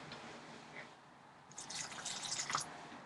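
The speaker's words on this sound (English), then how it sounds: "I have to water my rosemary" Water splashes and trickles onto a wilted rosemary plant, starting faintly and growing into a brief, close spatter of drips and pouring that peaks near the end.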